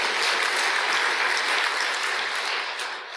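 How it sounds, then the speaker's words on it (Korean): Dense audience applause at a Sunday Buddhist dharma service, loud and steady for about three seconds before easing slightly toward the end, with no voices on top. "콘크리트한테 박수 한번 치세요."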